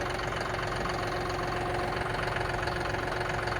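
A newer small farm tractor on a beef farm idles steadily nearby, its even mid-low engine chug and knock continuing without change throughout.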